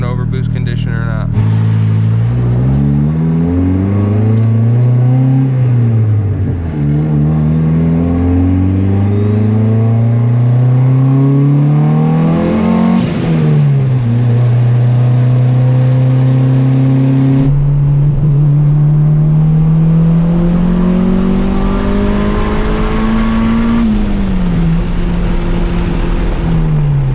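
A built turbocharged single-cam Honda Civic engine revs repeatedly on high boost, its pitch climbing and falling through several long pulls, loud and close, with a whistle at the top of one rev and a voice speaking at times.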